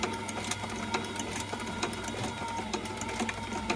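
Sewing machine stitching the split vamp of a Loake 1880 brogue shoe in a steady, rapid mechanical chatter, close and continuous without pause and with no voices.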